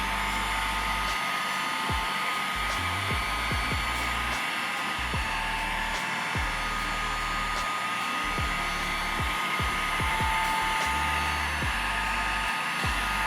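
A heat gun blows hot air steadily during paint protection film work on a BMW 335d, a continuous close broadband whoosh lasting throughout with no talking.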